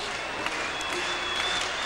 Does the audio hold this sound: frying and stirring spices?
no